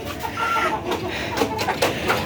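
Farm chickens and a rooster cluck in short repeated bursts close by, a busy, uneven flock chatter with no voices over it.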